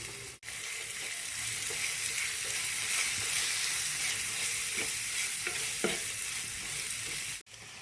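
Chili, turmeric and pepper powders fry in hot oil while tempering for an egg curry, giving a steady, loud, close sizzle with occasional stirring scrapes throughout.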